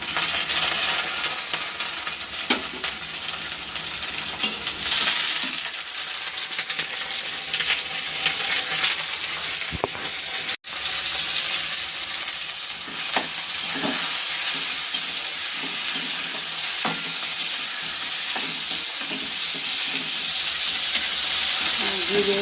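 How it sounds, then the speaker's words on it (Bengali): Onion, tomato and green chillies fry in a pan with a steady, dense sizzle that runs throughout, broken by occasional scrapes and clinks of stirring and a brief cut near the middle. "পেঁয়াজটা ভাজা হয়ে গেছে, এখন দিয়ে দেবো টমেটো, কাঁচা লঙ্কা"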